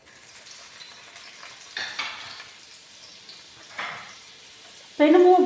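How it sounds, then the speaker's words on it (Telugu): Red onions fried in hot olive oil and butter on a pan for mutton samosa, a low sizzle broken by a few stirring scrapes, then a sudden loud burst of frying at the end. "ఆయిల్ కూడా బాగా కాగిపోయింది వెంటనే. చూడండి, ఎర్రగొడ్డలు కూడా ఇప్పుడే వేసేస్తున్నా."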